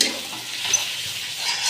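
Spices for a Kashmiri-style mutton curry are stirred and fried in a pot, giving a short, even sizzling hiss with a soft scrape of stirring, close and moderately loud.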